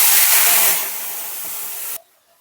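Mustard and poppy seed paste goes into hot oil in a village kitchen wok, giving a loud burst of hissing sizzle that softens and then cuts off abruptly, heard alone.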